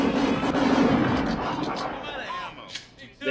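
Gunfire in the 1987 film RoboCop, a dense barrage of loud blasts in the opening seconds that thins into scattered sharper reports, with excited voices reacting over it.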